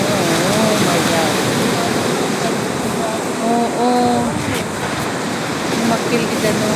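Sea waves at the seaside during high tide, a continuous loud wash of surf with faint bird calls and snatches of nearby talk over it.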